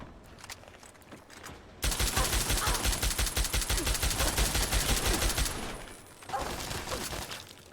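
Automated turret in Fallout 3 firing a sustained machine-gun burst of rapid, evenly spaced loud shots for about four seconds, then a pause and a shorter burst, with quieter game sounds before.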